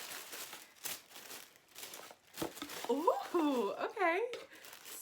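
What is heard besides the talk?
pink tissue paper crinkling while unboxing a subscription box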